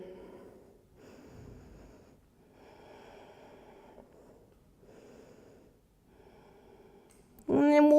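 Slow, deep breathing in a yoga child's pose, five soft breaths in a steady rhythm, each a hushed airy rush close to the microphone, followed by a sudden louder sound at the end.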